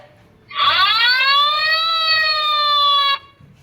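A fire engine siren rises into a single sustained, steady wail lasting under three seconds, clear and loud above a quiet background.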